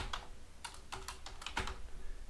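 A short burst of quiet, close keystrokes on a computer keyboard as values are typed into a Tableau parameter list, about six clicks in an uneven rhythm.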